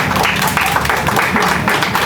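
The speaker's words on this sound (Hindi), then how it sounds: "तालियां बजा दें यार।" An audience at a Urdu poetry mushaira at Tea Garden, Lahore claps in a short, steady burst of applause, close and fairly loud.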